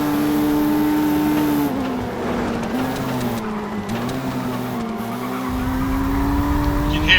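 Old racing video game car with a droning engine and tires sliding and squealing through a corner, a steady synthetic whine that dips and wavers, loud and continuous.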